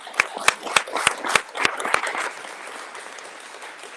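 An audience claps at a political announcement event, starting with a series of sharp individual claps that blend into a brief round of applause and then fade out.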